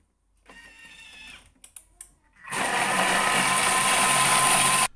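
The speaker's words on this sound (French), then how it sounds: "je vais le mixer avec n'importe quel robot que vous avez" A food processor whirs as it blends ingredients for homemade bouillon cubes. A few sharp clicks and short bursts come first, then a loud, steady high-pitched whirring runs for about two and a half seconds before cutting off abruptly.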